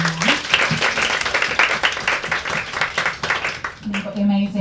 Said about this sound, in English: can we get a round of applause for Danielle?